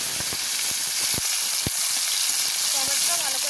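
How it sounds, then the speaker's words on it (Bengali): Chopped tomato sizzling in hot oil with whole garam masala spices, in oil left from frying bata fish; a steady close hiss with a few sharp pops and crackles. "টমেটোটা ভালো করে একটু তেলে ভেজে নেব"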